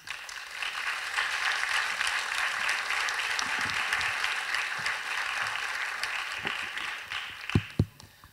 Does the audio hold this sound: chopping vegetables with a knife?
no